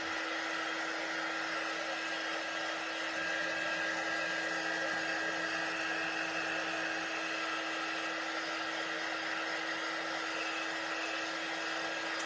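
A dryer blows on craft pieces for a pink Halloween door hanger, giving a steady, close whirring drone with a faint motor whine that holds level throughout. No voices are heard.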